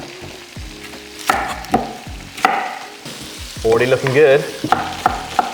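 Chorizo and red onion fry in a pan with steady sizzling, broken by several sharp knocks and stirring scrapes and a burst of louder crackling midway, while a voice speaks briefly.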